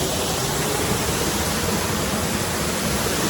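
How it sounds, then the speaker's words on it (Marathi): Waterfall at Dolkhamb Dam near Shahapur pours with a dense, steady roar of rushing water, loud and unbroken throughout. "एवढा भारी वॉटरफॉल आहे"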